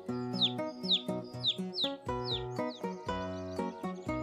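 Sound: hungry little bird chirping

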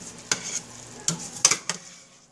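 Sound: stirring unstuffed peppers in a pot

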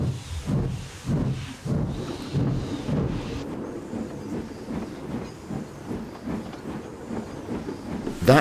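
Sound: thunder rumbling in the distance

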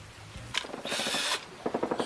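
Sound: power drill drilling bamboo

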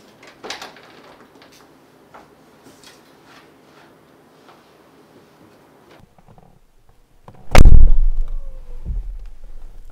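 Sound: Mercedes G-Class door closing

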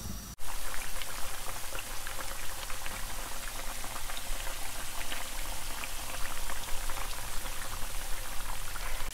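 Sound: potato pieces frying in hot oil

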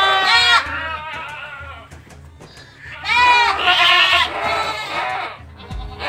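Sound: Boer goat kids bleating in a pen

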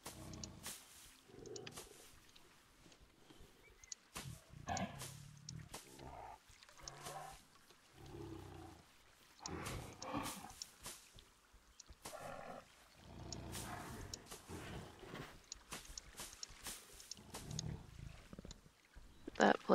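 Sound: Bengal tigers roaring in Planet Zoo video game

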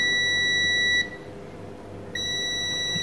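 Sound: multimeter continuity test beep on a diode

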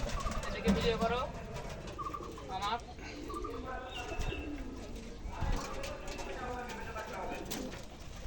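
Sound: pigeons cooing in a loft

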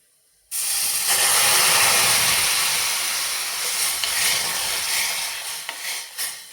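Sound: milk poured into a hot roasted mixture for payasam

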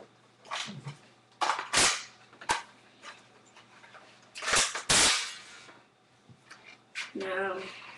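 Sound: laser controlled airsoft turret firing a BB

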